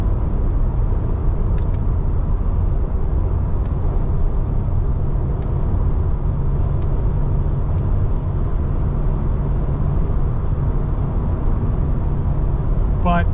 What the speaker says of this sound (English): Now, up on the highway, You're going to get some wind noise, you're going to get some road noise because you're low to the ground.